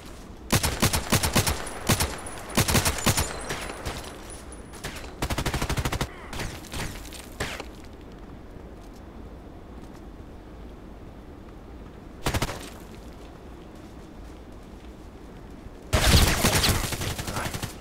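Gunfire in the video game Contract Wars: rapid automatic bursts and fusillades crackle loudly at the start, then a long quieter stretch with a single isolated burst, ending with another loud volley.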